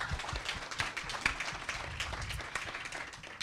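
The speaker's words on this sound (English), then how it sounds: "So a big round of applause for OEVTV." An audience claps for OEVTV at a panel discussion on Kānaka Maoli self-governance, giving a steady, fairly dense round of applause that holds at an even level throughout with no talking over it.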